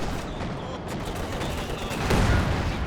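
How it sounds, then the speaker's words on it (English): A heavy mortar strike in Company of Heroes 2 lands as a dense, rumbling volley of explosions under continuous battlefield noise, swelling louder near the end. "Oh, good heavy mortar strike"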